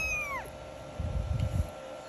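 A polydactyl kitten gives a thin, high meow that falls in pitch at the start, close and clear, followed by faint low rustling.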